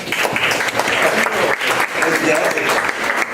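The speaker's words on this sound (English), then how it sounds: "Let's give them a round of applause, please." Audience applause for the Tiffin University softball team at a live spring radio event, a steady wash of many hands clapping at close range throughout the short stretch.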